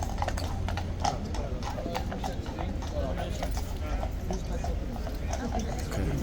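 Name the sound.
horse hooves clip-clopping at Horse Guards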